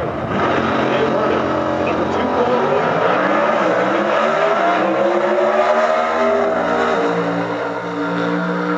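Hemi-powered Super Stock drag racing car in competition, engine roaring loudly and steadily with rising and falling harmonic pitch sweeps as it revs and pulls away, with a commentator's voice running underneath.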